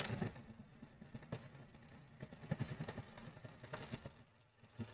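A pico sewing machine runs with a steady low mechanical chatter and rhythmic clattering, fairly quiet and close, with no voices over it.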